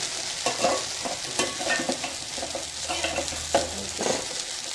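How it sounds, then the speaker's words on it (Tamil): Banana flower and grated coconut are stir-fried in a pan, a steady close sizzle broken by repeated scraping and stirring strokes of a spatula, with no talking. "வாழைப்பூ தேங்காய் பூ போட்டு நல்லா மிக்ஸ் பண்ணலாம்"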